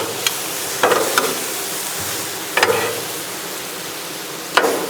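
Meat sizzles on a griddle in a steady, close frying hiss, broken by a few sharp metallic scrapes and clinks from a spatula.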